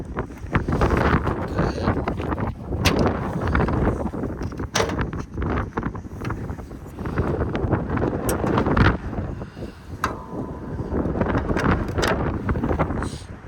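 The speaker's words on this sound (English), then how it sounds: "Getting a bit windy today." Gusty wind buffets the microphone in loud, rumbling surges with brief lulls beside a Mk2 Volkswagen Jetta with a VR6 engine swap, scattered knocks and clicks underneath.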